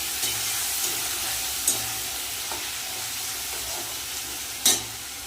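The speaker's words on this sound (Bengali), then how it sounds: "মশলাটা ভালো করে কষিয়ে নেব।" Ground cumin and chilli paste fries in a pan for a spicy fish curry, a continuous close sizzle with a few sharp spatter pops and light stirring, no voices.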